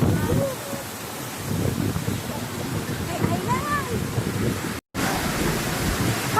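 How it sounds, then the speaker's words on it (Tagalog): Strong surf crashes steadily at Boracay Island, a broad continuous roar of waves with wind buffeting the microphone, close and loud, with a short dropout near the end. "Ang lakas ng alon."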